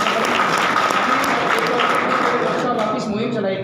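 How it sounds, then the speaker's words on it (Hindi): A crowd at a community program gives loud applause for donors, thick continuous clapping from many hands that stays strong throughout and tapers a little near the end. "उन भामाशाहों के लिए जोरदार तालियां"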